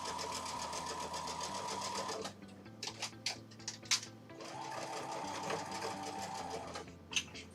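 A sewing machine stitches quilt fabric in two steady runs, with a pause of light clicks and taps between them, close and clear with no talking.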